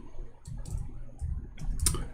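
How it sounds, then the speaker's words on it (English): Fast bursts of typing on a computer keyboard, several quick clusters of clicks with a sharper tap near the end, fairly quiet and close with no speech. "my keyboard sometimes is not functioning. I have to type it twice."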